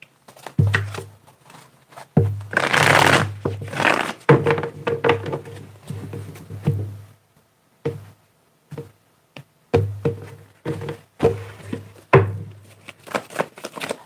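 Tarot cards being shuffled in bursts, a riffle-like rush of papery card noise with soft thunks and taps between rounds, close and fairly loud with short pauses between shuffles.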